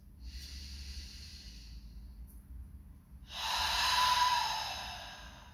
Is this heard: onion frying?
no